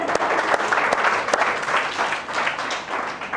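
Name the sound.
audience applause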